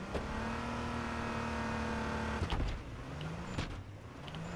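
A car in the battle royale game H1Z1 drives with a steady engine drone, then slows down midway as the engine note drops, leaving a lower idling rumble with a few knocks and clunks.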